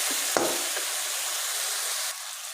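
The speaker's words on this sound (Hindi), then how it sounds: "अब हम इसे अच्छी तरह फ्राई कर देंगे। मटर बिल्कुल बहुत ज़्यादा भूनना पड़ता है" Green peas and spice masala frying in a pan for aloo matar, a continuous close sizzle with one sharp knock of a spoon near the start, no talking.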